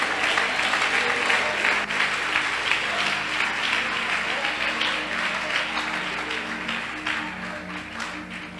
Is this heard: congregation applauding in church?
yes